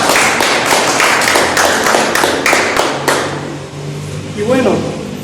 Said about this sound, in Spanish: por favor, otra vez un aplauso